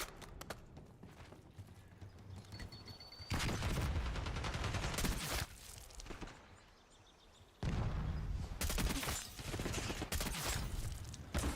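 Weapon gunfire in Black Ops 6, coming in two long, loud sustained volleys of rapid shots with quieter in-game ambience between them.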